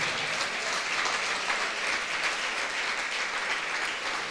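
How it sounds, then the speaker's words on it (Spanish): Congregation applauding for God at a church service, a steady dense wash of many hands clapping that fills the whole stretch at an even level, no voices standing out. "Si ese aplauso para Dios es más fuerte."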